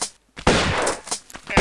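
A single sharp gunshot rings out in the Tomb Raider video game, loud and close with a short echoing tail, followed by smaller clicks and a second burst near the end.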